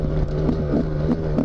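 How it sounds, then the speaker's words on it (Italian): Motorcycle engine braking on a downhill descent, a steady low engine drone with faint rhythmic pulses, close and continuous with no talk. "Ora in discesa vediamo di grippare col freno motore."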